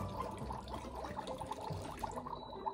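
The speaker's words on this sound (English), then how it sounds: "It's really bubbling like a real cauldron." A Magic Mixies toy cauldron bubbles with a soft, continuous fizzing and gurgling that stays steady and close for a few seconds.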